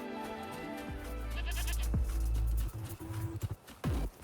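A goat bleats in the Wuthering Waves video game, with a few loud, wavering calls cutting over a steady droning game soundtrack and scattered in-game effects.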